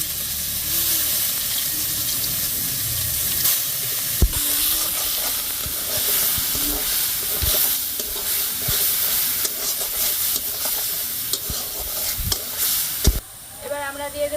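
Garlic, cumin and ginger spice paste sizzling and frying loudly in a hot pan after fish has been fried, with steady hiss, stirring scrapes and a few clanks throughout.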